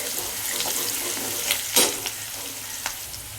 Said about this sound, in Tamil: வெங்காயம் வதங்கும் போது கொஞ்சம் உப்பு போட்டு வதக்கினீங்கன்னா கொஞ்சம் சீக்கிரமாக பொன்னிறமாக வதங்கும்.